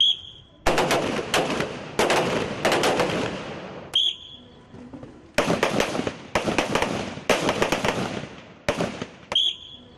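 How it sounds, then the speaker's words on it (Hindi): Rifle shots at a military shooting practice demonstration, fired from standing, kneeling and prone positions: loud, close, sharp cracks in irregular bursts and single reports with brief pauses between groups. "Just give you a demo where they're going to fire from 3 positions: standing, kneeling and"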